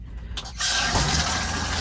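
An RV toilet refills with water after a water pump replacement, a steady, close rush of running water that starts abruptly and continues without pause.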